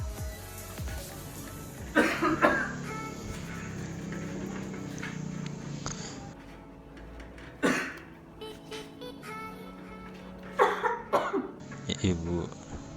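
A man coughing into his palm in an office, several short harsh coughs in bursts over a music background, with a voice speaking between them.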